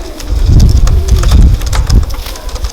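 Bowden strain pigeons coo in low, throaty bursts close by, layered over a dense rustling, noisy loft background with no talking.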